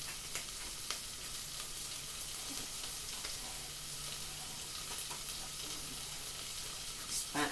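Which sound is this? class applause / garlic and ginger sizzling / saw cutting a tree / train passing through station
garlic and ginger sizzling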